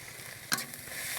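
Ginger garlic paste hits a hot pan for a village-style cabbage stir-fry, giving a sudden sizzling burst that settles into a steady, moderately loud frying hiss, with no talking.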